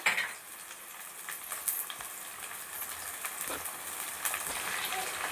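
Sizzling and crackling of onion and ginger sautéing golden in a pan of oil, with occasional stirring clinks, moderately close and steady.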